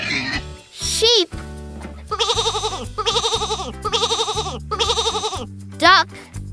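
Four bleating sheep calls in a steady, evenly spaced run, loud and close over a bouncy children's music backing, with short sung vocal phrases before and after.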